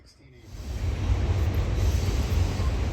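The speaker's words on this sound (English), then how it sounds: "I'm sorry if that train is loud" A loud train rolls past on a morning outdoors, a steady low rumble and rattle of wagons swelling in the first second and holding heavy and close to the end.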